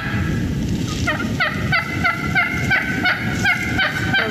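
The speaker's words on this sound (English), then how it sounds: "That's called a yelp, and turkey's yelp, it's kind of the human equivalent of a word." Wild turkey yelping outdoors, a steady run of short, evenly spaced calls repeated about three times per second, loud and close over a constant noisy background.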